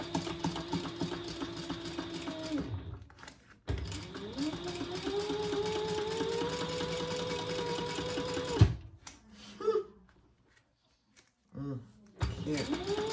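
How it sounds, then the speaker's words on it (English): Sewing machine top stitching across the top of a fabric bag, a steady mechanical whir that runs for several seconds, stops, then resumes in short bursts with handling noises between. "now we're gonna top stitch again right across that top portion"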